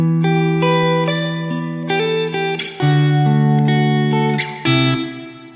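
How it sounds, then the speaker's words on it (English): An electric guitar played through a plate-style reverb pedal rings out in sustained chords and single notes, bright and airy, with a shimmering tail washing between strums. "Do you like a plate style reverb?"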